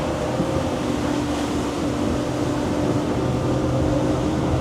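Cruise Craft E770HT boat powered by a Yamaha F450 XTO outboard, turning right, gives a steady loud engine hum mixed with rushing water and wind noise, constant and close.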